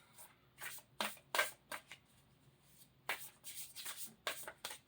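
A deck of self-care wisdom cards is shuffled by hand in several quick, crisp riffling bursts separated by short pauses, close up and alone.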